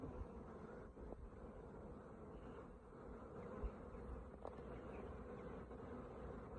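A dense swarm of honeybees hums continuously in a poly nuc box, a steady, close buzzing drone with no voices.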